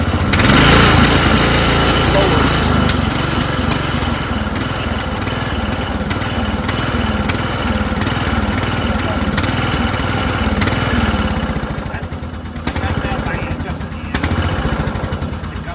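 A lawn mower engine runs steadily and loudly throughout at full throttle, a rough continuous drone with a slight dip near the end, with faint voices partly underneath.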